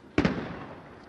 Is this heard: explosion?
yes